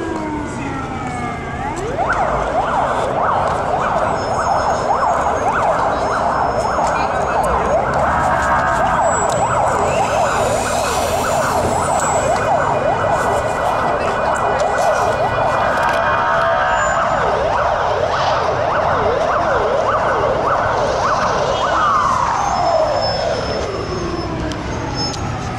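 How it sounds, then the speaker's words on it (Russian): An ambulance siren wails loudly and steadily on a city square in Kharkiv, its tone cycling up and down for the whole stretch, sounding close by. "слава богу, это всего лишь скорая"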